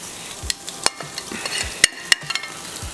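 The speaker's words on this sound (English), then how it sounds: "So they're already grilling nicely." Beef short ribs sizzle on a hot grill with flaring fat, a steady close crackle broken by sharp pops and snaps scattered through the moment, with no talking.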